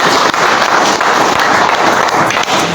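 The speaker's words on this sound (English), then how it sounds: "I would like to request that we give ourselves a big round of applause" Audience applause at an African Union delegates' gathering: dense, steady clapping from a crowd, loud and close, filling the whole stretch without a break.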